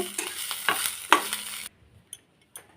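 Oil sizzles and crackles in a pan of frying drumstick leaves with green chillies while a utensil scrapes and stirs, then the sizzle cuts off, leaving a few faint clinks.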